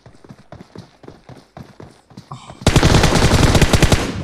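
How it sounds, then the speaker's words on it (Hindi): Shotgun fire in a video game, a sudden loud, dense barrage of blasts following a stretch of lighter rhythmic thuds, close and harsh through the final second and a half. "shot gun"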